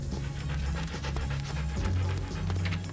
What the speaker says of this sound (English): Get rid of that dog, Zarel.